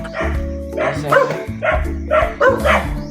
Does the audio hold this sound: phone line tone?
no